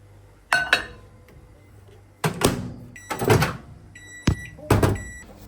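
Kitchen sounds after melting butter in a microwave oven: a few sharp clicks and clunks, a door opening and shutting, and brief clinks of glass or dishes, close and fairly loud with quiet gaps between them.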